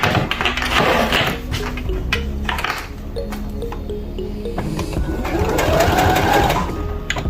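A sewing machine runs in bursts while stitching the bottom hem of a cotton T-shirt dress, its motor whirring steadily up close with a brief pause midway and a faint voice under it.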